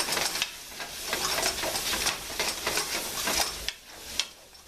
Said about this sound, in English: we'll go back to our sauteed vegetables here.